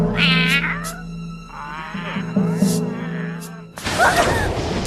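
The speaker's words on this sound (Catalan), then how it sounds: "Aquests gats només fan nosa" Several cats meow in quick succession, loud and close, with a hissy scuffle near the end and a low steady hum underneath.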